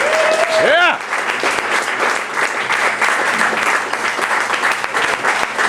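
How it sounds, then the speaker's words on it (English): A nightclub audience at a comedy show breaks into dense, sustained applause that fills the room, with a brief rising whistle near the start. "Could we please have a round of applause"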